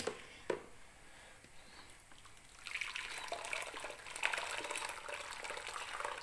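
Pineapple and carrot juice poured through a filter to strip off foam, faint trickling and dribbling liquid with a couple of small clicks, growing busier and spattering in the second half.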